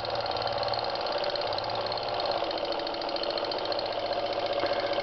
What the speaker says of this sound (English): It's of course perfect for running my rare little engines